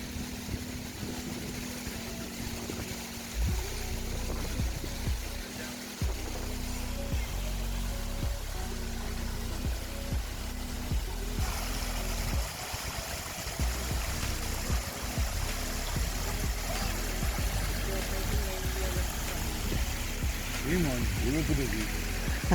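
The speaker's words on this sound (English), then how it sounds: "That water just sliding over those rocks." Water slides and trickles over rocks near a geyser area in Rotorua, New Zealand, a steady close rushing wash running the whole time with a low engine-like rumble and some people talking in the background.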